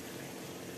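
Water poured into a pan for a Bengali potol bhapa with mustard-poppy paste, a steady continuous gushing fill, close and fairly quiet, no voices.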